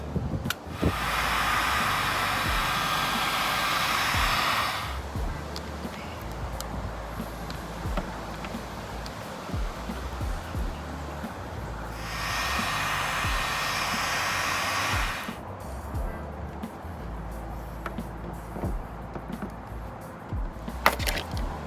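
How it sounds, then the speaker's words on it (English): A heat gun softens badge adhesive on a BMW E93 M3, blowing a loud steady airy whoosh in two long bursts with a quieter gap between them and faint handling noises after. "I'm going to use a heat gun and we're gonna soften the adhesive"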